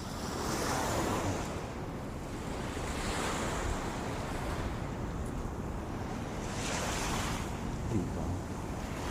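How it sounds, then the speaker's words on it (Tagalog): Ocean waves wash onto a beach shore at dawn, a steady broad roar of surf with swells rising and falling every few seconds, close and loud, with some wind buffeting the microphone and no voices. "Andito ako sa Dalampasigan"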